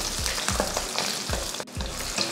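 Whole small onions and four garlic cloves sizzle steadily in hot oil for kathirikkai puli kuzhambu, with a spatula stirring in a regular rhythm of scraping strokes, close and loud, no voices.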